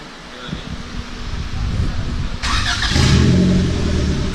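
A Honda LS VTEC engine with an eBay turbo idles roughly, then revs up hard with a rising, raspy mechanical roar close by.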